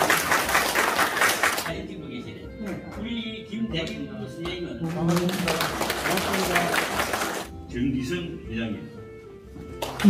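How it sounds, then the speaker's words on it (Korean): Bursts of audience applause at a photo exhibition opening, loud clapping in two stretches separated by a host speaking over a microphone in a reverberant room. "자, 큰 박수 부탁드립니다."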